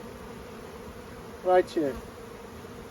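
Honey bees buzzing around a hive while frames are moved from a nucleus colony into a full-sized hive, a steady close drone throughout, briefly overlaid by a short spoken phrase.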